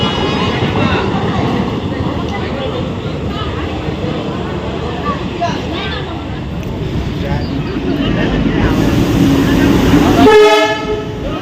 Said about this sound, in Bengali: তো চলো, ট্রেন আসার অপেক্ষা করি